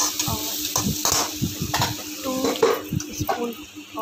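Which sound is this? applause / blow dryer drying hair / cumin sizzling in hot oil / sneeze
cumin sizzling in hot oil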